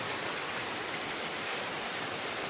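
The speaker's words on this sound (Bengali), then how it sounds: "কেমন বৃষ্টি হচ্ছে দেখো" Steady rain falling over a rooftop, a dense, even hiss of drops with no breaks, fairly soft and heard alone.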